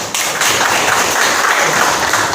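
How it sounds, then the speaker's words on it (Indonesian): A class of students applauding together, a dense, steady burst of many hands clapping at close range that carries on evenly without talk. "tepuk tangan buat semuanya"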